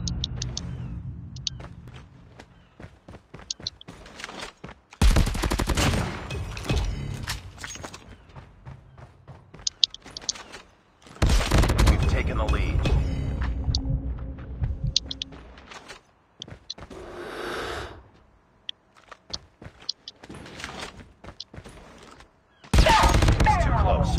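Bursts of video-game gunfire in a one-on-one deathmatch, loud clusters of rapid shots separated by quieter stretches of footsteps and thuds, with a voice talking in between.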